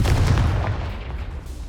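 A Confringo blast in Hogwarts Legacy booms once, loud and close, with a heavy low-end punch that rolls off into a fading rumble.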